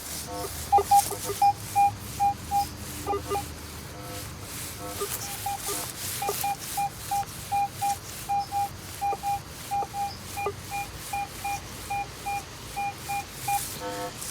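A metal detector sounds off over a solid target in the old barn area of an 1806 pioneer homestead, giving a steady train of short, evenly spaced electronic beeps that repeat through the whole stretch at moderate loudness.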